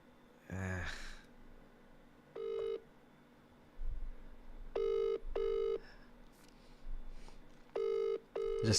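Telephone tones sound in short repeated bursts while a call is placed, a few dial or ring signals spaced unevenly, faint and close, with a brief breathy sigh near the start and no talking.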